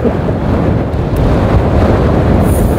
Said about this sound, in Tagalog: Grabe ang lakas ng hangin dito.